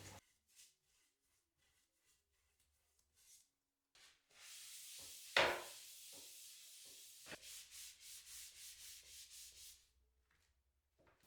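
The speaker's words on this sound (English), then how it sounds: "I'm just going to rub 1 coat on and then buff it off so it's quite a light covering." Hard wax oil stain rubbed by hand onto a small wooden cocktail case, a soft scattered scuffing that builds into a steady hiss, then a run of rhythmic rubbing strokes before it stops.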